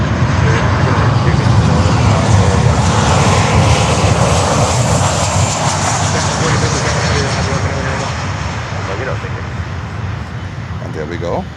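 Cargo jet engines roar loudly at Miami airport, a steady close rumble that slowly fades over several seconds, with people talking over it.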